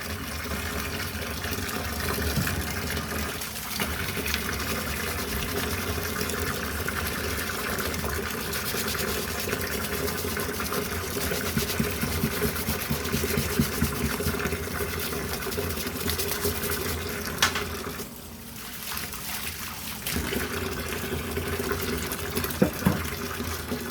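Bike shoe cleats are scrubbed clean under running water, a faint, steady gush and splash of flowing liquid with soft scrubbing noise, continuing for a long stretch with a short pause near the end.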